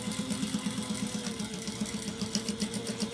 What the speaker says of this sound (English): I'm going to back stitch a few